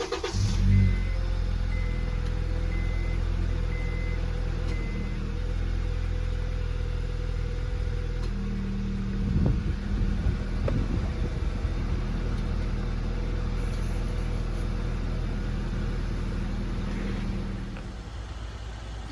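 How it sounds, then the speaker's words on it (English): A car engine idles with the cabin air recirculation switched on, giving a steady, close, low droning hum and a soft fan rush that holds level for the whole stretch, with no one talking. "I'm going to do 10 minutes with the car running and the recirc on"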